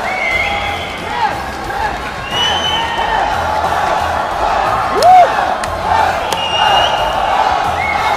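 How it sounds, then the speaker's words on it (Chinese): A crowd roars and cheers around a fighting ring during a bout, a steady wash of voices with shouts and whistles rising through it and brief louder swells, while a commentator talks over the top. "在全场的欢呼声中"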